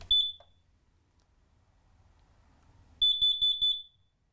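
A carbon monoxide alarm under test gives a single sharp high beep, then after a pause of near silence a quick run of four piercing beeps close by, loud and alone.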